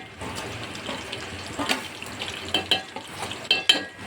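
Tomatoes with turmeric, salt and red chilli powder fry in hot oil, giving a steady close sizzle with scraping stirs and a few sharper clatters of a spoon against the pan.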